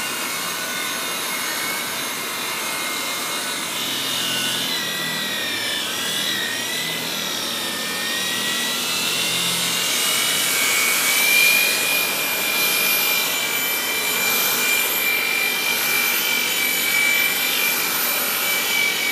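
Power polisher working Ducky Show Stopper polish over a fiberglass boat hull at a Nordic Boats shop, a continuous high whirring hum that rises in strength partway through, with no talk.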